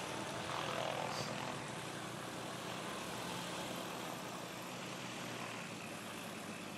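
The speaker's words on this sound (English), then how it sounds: "Give it up for Don as he taxis past you guys." A small propeller airplane at a STOL competition in the Rocky Mountains taxis past, heard as a steady, fairly distant engine drone with a constant rumble throughout and no clear change in pitch.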